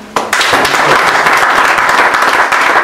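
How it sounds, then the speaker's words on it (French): A church congregation at a Pentecost healing service bursts into loud, sustained applause, a dense wash of many hands clapping from just after the start to the end. "Est-ce que tu peux applaudir pour ces dieux?"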